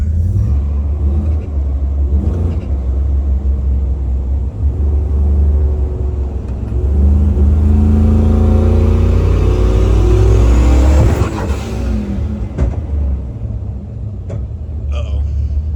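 A 1000-horsepower turbocharged Ram truck accelerates hard, its deep engine rumble building into a loud, sustained roar that peaks and then drops off abruptly near the end.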